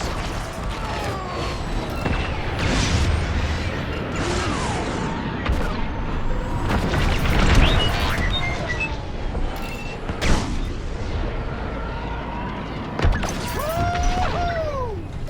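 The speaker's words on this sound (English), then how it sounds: "Fire missiles!" Missiles launch and detonate in a Star Wars Squadrons space dogfight, with repeated whooshing launches, sweeping engine tones and several sharp explosive hits over a dense, loud battle mix.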